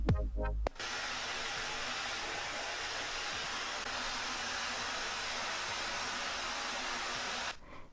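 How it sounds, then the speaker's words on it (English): A Roidmi A100 hair dryer blows steadily with a loud, even whoosh of air that runs without change for several seconds, then cuts off near the end. "That is the original volume of this hairdryer"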